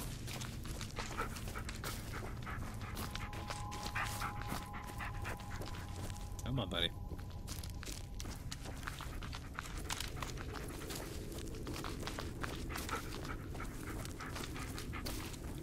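A dog pants steadily and rapidly at close range through the whole stretch, with a brief whimpering yip midway, over outdoor background noise.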